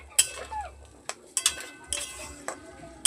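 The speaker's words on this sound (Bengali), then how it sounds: "দেখো চানাগুলা দিয়ে আমি নাড়াচাড়া করছি" A spoon clinks and scrapes against a pan while chickpeas are stirred for chana masala, with sparse, irregular taps and light stirring noises close by and a faint hiss in the background.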